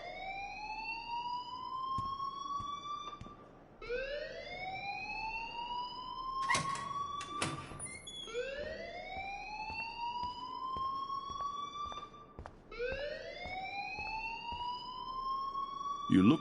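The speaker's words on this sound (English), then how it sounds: "please turn off that alarm since that's your job" An alarm in the video game Life is Strange wails in repeated rising siren sweeps, about four cycles, loud and continuous, with a couple of sharp clicks between sweeps and no clear speech.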